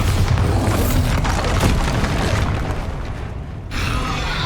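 Dense, noisy blasts of spell explosions in the video game Hogwarts Legacy, a continuous rumbling wash of booms that cuts off sharply near the end before a softer burst resumes.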